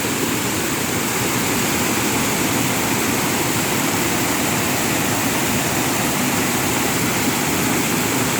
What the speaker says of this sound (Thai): นั่งฟังเสียงน้ำตกนะครับ